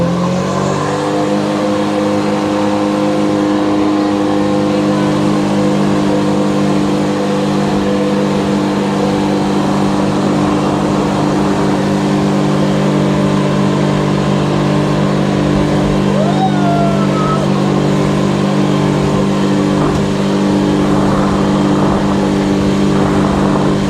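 A jet ski engine drones loud and close throughout as the throttle is held open on the water off Barelang, Batam, a steady buzzing hum with a slight rise in pitch.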